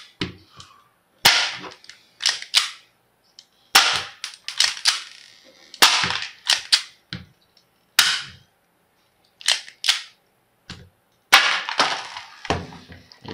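Sharp, snappy shots from a Taurus 24/7 spring airsoft pistol ring out one at a time at irregular intervals, each followed by a brief clatter as the pellet strikes a target nearby.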